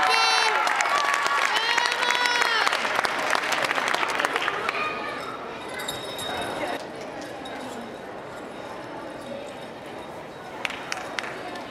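Audience applause and cheering at a 2013 Level 4 gymnastics meet, a dense crowd roar that is loudest at the start and slowly tapers off, with a few claps near the end.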